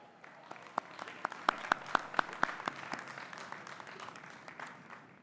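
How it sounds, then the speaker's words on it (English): A graduation audience at the Saint Elizabeth University 2025 ceremony bursts into applause, with a brief cluster of sharp, irregular claps rising out of a broad crowd clapping that carries on steadily at a moderate distance. "That's an applause line."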